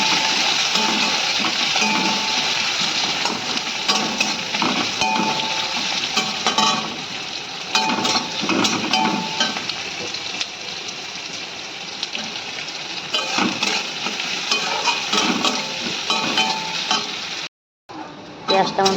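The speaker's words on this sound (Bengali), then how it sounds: "এবার আমি পেঁয়াজ দিয়ে দেবো।" Onion fries in hot oil with bay leaf, cardamom and cinnamon for a jackfruit and prawn curry, a loud continuous sizzle broken by the scrape and clink of stirring, ending in a brief silence.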